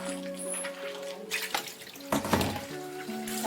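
Snail meat being rinsed under a running kitchen tap, a steady close stream of water splashing into a sink with brief bursts of louder spray and clatter partway through.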